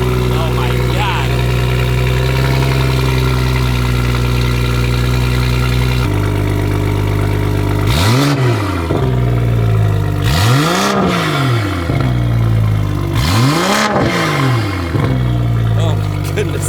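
A BMW M340i with full exhaust and a catless downpipe idles with a deep, loud rumble, then gets two sharp revs that climb and fall back, close and dominating.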